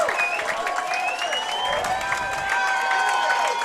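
Loyola homecoming varsity football crowd applauding and cheering after a touchdown, sustained clapping and shouts from a large outdoor crowd, steady and loud throughout.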